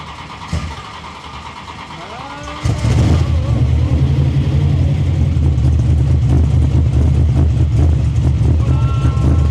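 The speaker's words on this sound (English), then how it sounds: "Okay, we're gonna get a cold start." A car engine cold-starts after a short cranking whir, then settles into a loud, rough high idle with a deep steady drone that continues to the end, with faint talk at the start.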